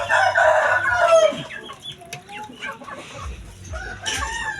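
Native chickens cluck near and clear, and a rooster crows at the start, with more clucking and scattered bird calls following in the background.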